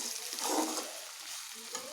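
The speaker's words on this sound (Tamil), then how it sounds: "ஒரு ரெண்டு நிமிஷத்துக்கு ஒருக்கா எடுத்து கிளறி விடுங்க இல்லைன்னா இந்த மசாலாலாம் வந்துட்டு அடி பிடிச்சிரும்" Chicken masala stirred and sautéed in a pan while making chicken gravy, a steady close sizzle with scraping stir strokes rising and falling, with no voices.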